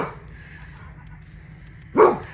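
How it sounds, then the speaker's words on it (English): A dog gives a single short bark at birds, fairly near, after a quiet stretch of faint background hum outdoors. "woofing at birdies"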